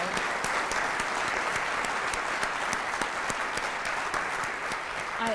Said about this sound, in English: Could we give another round of applause for all of our inductees today?